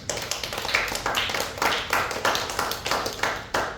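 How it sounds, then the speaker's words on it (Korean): A church congregation claps together during a Sunday worship service, a steady run of dense, bright hand claps lasting several seconds at moderate volume, with no talk over it. "그럼 위로의 박수 한번 보내겠습니다"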